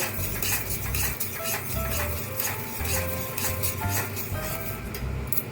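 A spoon scrapes and clinks against a pot while turmeric and salt are mixed into a mustard-poppy masala for Bengali pabda fish curry. The stirring is steady, soft and close, with no talk.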